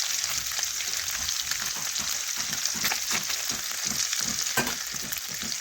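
Tengra fish fry in hot oil in a wok, giving a constant close crackling sizzle with dense popping and spitting and no voices.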